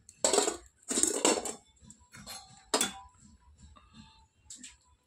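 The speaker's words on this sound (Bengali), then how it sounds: "আর এখন আমি সজনা ডাঁটার তরকারিটা বসিয়ে দেবো" Sharp metallic clanks of a pot of drumstick (sajna data) curry set down on a home kitchen stove, a few loud clinks early then lighter scraping taps, with no voice.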